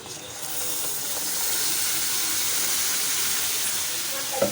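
Gram flour frying in hot oil as tomato puree is added, giving a steady, close sizzle with soft stirring, followed by a brief clatter near the end.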